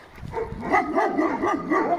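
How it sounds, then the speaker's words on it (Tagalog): A dog yips and whines in a few short, rising bursts, fairly close, with no talking. "May aso rin."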